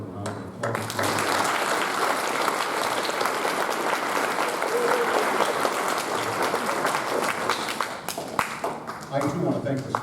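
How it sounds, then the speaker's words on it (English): An audience at an eighth grade graduation ceremony breaks into sustained applause for the graduating students, a dense wash of clapping that holds steady for several seconds before thinning into scattered claps. "they deserve a round of applause"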